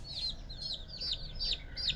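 Backyard chickens on a small farm clucking, a repeated series of five or so close, moderately loud clucks in an even rhythm over a low outdoor background.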